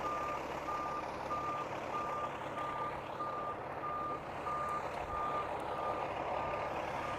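A truck backs up slowly with its reversing alarm beeping in a steady, evenly spaced series over a constant low engine idle, heard from a moderate distance with no talking.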